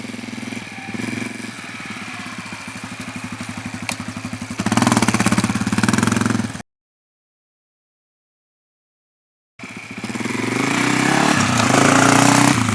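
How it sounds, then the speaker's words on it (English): A motorcycle engine runs steadily at low revs, then climbs louder after a shift, cuts off into silence and returns at a strong, rising drone, as when riding through a clutch gear change. "you let off the throttle, you pull in the clutch, you shift it up a gear, you let out the clutch and get back on the gas"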